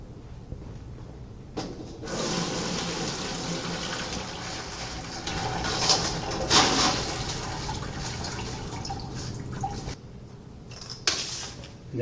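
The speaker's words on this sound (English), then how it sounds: "After the 15 to 19 hours, you have to carefully decant the excess water." Excess water is poured off a container of coarse aggregate after a long soak, a steady splashing pour running for several seconds with a faint rattle of stones, then stopping, followed by a brief second splash.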